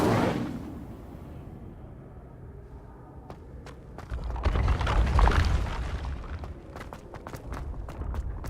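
An Incendio fire spell cast in a Harry Potter video game, a low whooshing burst swelling in the middle amid scattered clicks and small impacts, moderately loud against quieter game sounds.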